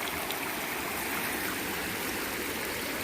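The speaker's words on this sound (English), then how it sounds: "it's the old creek's clicking along pretty good this morning" A creek swollen by a flash flood rushes steadily, a loud, continuous broadband roar of churning water with no pauses and no voices.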